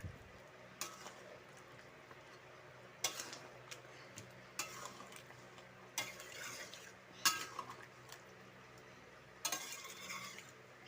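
Potatoes stirred in a pot of chicken curry masala: soft, scattered scrapes and light metallic clinks of a spoon against the pot at uneven intervals, fairly quiet, over a faint low hum with no talking.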